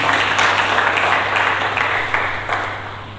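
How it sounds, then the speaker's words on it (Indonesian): Congregation clapping during a Sunday church sermon, a dense wash of applause with a steady electrical hum beneath, fading slightly toward the end. "Berikan tepuk tangan dulu bagi Yesus."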